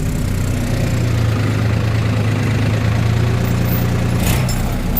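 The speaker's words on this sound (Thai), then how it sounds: "นี่ครับลากเกียร์ไฮหนึ่งนะครับทุกคน สามต้น มาแบบชิวๆเลยครับ" A New Holland TT3.50 tractor engine drones low and steady while dragging three logs in high gear, a continuous close rumble with no break.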